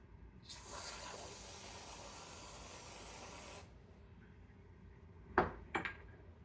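Whipped cream sprays from a can onto a hot fudge sundae in one steady, close hiss lasting about three seconds, followed by a couple of faint clinks.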